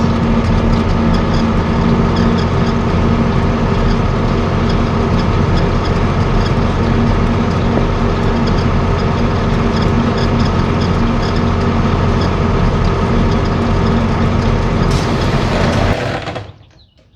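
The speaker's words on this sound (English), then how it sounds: "My neighbors love it when I pull in with the tractor." A John Deere 4440 tractor drives with a loud, steady low engine drone and rumble that continues evenly before cutting off sharply at the end.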